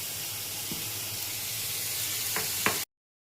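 Fish oil frying with onion and salt in a pan, a steady close sizzle and hiss with a couple of brief stirring clinks near the end before it cuts off.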